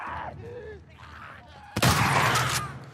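Gunfire from a shooting video game: soft, muffled vocal sounds come first, then one sudden, loud burst of gunshots that rings on for about a second.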